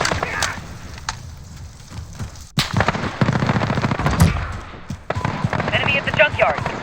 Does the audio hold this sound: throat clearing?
no